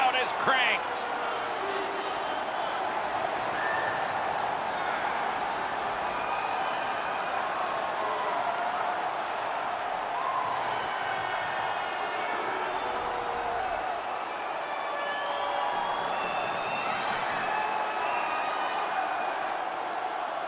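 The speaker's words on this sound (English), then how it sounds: "The crowd is cranked." A steady, loud stadium crowd roar fills the whole stretch after a goal in an NHL 19 hockey video game match between Norway and Austria, holding at an even level throughout.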